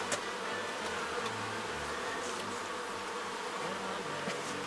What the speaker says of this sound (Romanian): stupul e cam pregătit de pădure